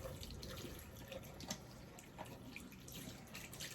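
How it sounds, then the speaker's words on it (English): Running tap water rinses dyed hair extensions near the clips in a sink, a steady close splashing flow with small irregular drips and spatters throughout, no talking. "Rinse the top of these."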